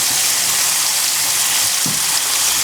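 Chicken and bacon fry on a barbecue grill, a loud, steady hiss of sizzling fat filling the whole clip, close up with no talk.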